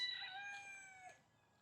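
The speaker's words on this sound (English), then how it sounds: "A lot of chickens over here." Several chickens on a rustic outdoor property, with a rooster giving one long crow over soft clucking, close and fairly loud, then fading.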